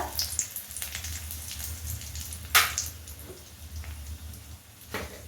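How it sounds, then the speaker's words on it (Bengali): Two dry red chillies and a bay leaf sizzle in hot oil, giving a faint, steady crackling hiss with a few sharper pops, close and without talk. "প্রথমে ফোড়নে দেব দুটো শুকনো লঙ্কা একটা তেজপাতা"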